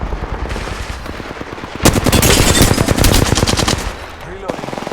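Automatic weapon fire in the video game Apex Legends, a sustained loud burst of rapid shots in the middle flanked by quieter scattered firing, close and dense.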